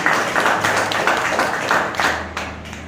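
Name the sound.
applause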